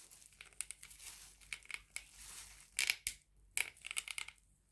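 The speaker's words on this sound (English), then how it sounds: "and just try carving it in like this." A knife carving into the eye of a coconut, producing close, dry scraping and crunchy crackling bursts in an irregular rhythm, fairly quiet with short sharper peaks.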